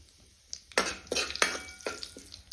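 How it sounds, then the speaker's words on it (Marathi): Mustard seeds, cumin and curry leaves fry in hot oil for a tempering over a wood-fired stove, bursts of crackling sizzle flaring up a few times alongside a spoon scraping the pan, close and fairly quiet. "मोहरी जिरी आणि कढीपत्ता छान तळलेले"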